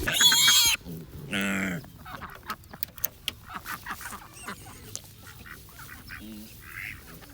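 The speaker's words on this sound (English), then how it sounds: "I wanted to show you guys how we move our pigs in our front yard." Pigs are moved around a front yard inside portable electric fencing, with a loud burst at the start followed by scattered grunts, squeals and rustling close by.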